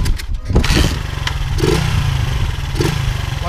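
Honda Titan KS 125 motorcycle engine with a Pro Fire Multscan competition CDI, revving hard against its rev limiter with a rapid stuttering cut, loud and close throughout.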